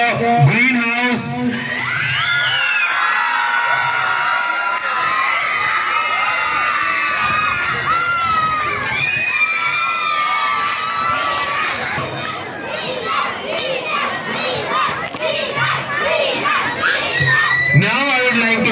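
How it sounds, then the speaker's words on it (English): A large crowd of students at an annual school sports ceremony cheers, shouts and applauds for a winning house. It is a loud, sustained din of excited children's voices with clapping swelling throughout. "Give a huge applause for the greenhouse."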